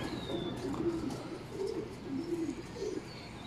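Pigeons cooing nearby, a repeated low throaty coo in several phrases, with faint outdoor background and soft distant sounds.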